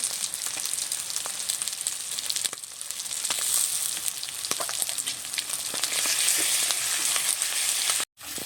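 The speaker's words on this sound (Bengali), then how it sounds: "আদা রসুন বাটাটা দিয়ে বেশ সুন্দর করে আবারও কষে নিয়েছি।" Ginger-garlic paste fries with onions, cumin and bay leaves in a pan for a spicy crab curry, making a loud, continuous sizzle with scattered crackles and stirring scrapes, broken by a brief gap near the end.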